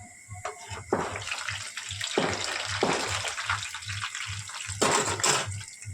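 Gulab jamun sweets sizzle in hot frying oil, with bursts of crackling hiss rising and fading over a faint, regular low thumping in the background.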